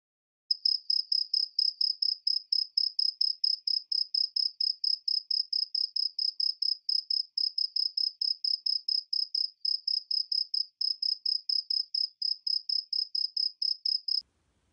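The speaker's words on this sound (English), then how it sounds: "I suddenly heard the faint sound of a cricket chirping somewhere" A single cricket chirps on and off at night in rapid, evenly pulsed bursts, a thin, high, steady trill repeating for the whole stretch against otherwise complete silence.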